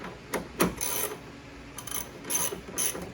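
13 mm ratchet tightening a plastic battery retainer on a 2016 Chevrolet Suburban, a few short bursts of close, crisp ratcheting clicks separated by brief pauses.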